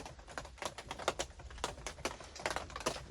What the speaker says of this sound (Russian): Дождь до сих пор не прекращается.